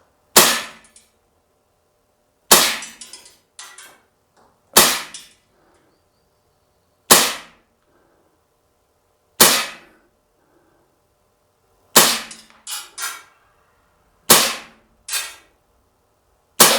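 Umarex Beretta M9A3 CO2 blowback BB pistol fired full auto outdoors: sharp, loud bursts of rapid cracks separated by pauses of silence, several short strings over the span.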